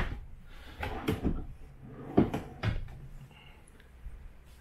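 A storage drawer in the kitchen of a 2021 Grand Design Reflection 310RLS travel trailer slides and bumps shut, giving several soft close thuds and knocks, near and moderately quiet, with no voices.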